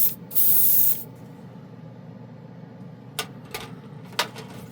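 An airbrush sprays color shift paint in one loud, hissing burst lasting under a second, followed by quiet and a few short, sharp clicks and puffs.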